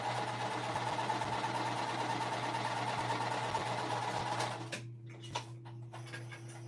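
A sewing machine stitches quilt blocks for a mystery quilt with a steady, close mechanical whir and hum, then stops abruptly near the end, leaving a quieter room with a few faint clicks.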